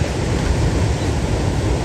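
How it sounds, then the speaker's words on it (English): Ocean waves roll onto a foggy Central Jersey beach on a cool morning as a loud, dense, steady roar of surf with wind buffeting the microphone and no voices. "love the sound of the waves rolling in"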